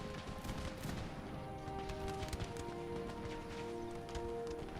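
Volleys of bows loosed by soldiers in Empire Total War, a dense continuous clatter of many shots layered over a steady battlefield din, with no voices.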